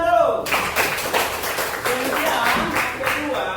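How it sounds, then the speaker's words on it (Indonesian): A classroom group in a university teacher-training session claps together, a dense patter of hand claps over room murmur, with speech heard at the start. "tepuk tangan dulu"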